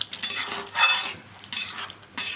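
Potol posto curry with cashew and roasted kasuri methi being stirred in a pan, giving a few soft scraping, clinking strokes of a spoon against metal in short bursts, close and moderately quiet.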